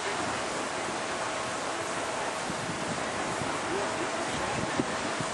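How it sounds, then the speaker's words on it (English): Steady wind roars across a beach at Las Olas, buffeting the microphone with constant rushing noise and faint surf underneath. "Little windy, trying to blow me off the perch."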